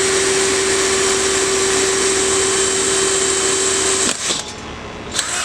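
A drill bores a small hole into a steel propane tank, a loud, steady close-up whine with a constant tone that stops abruptly after about four seconds, leaving brief clatter.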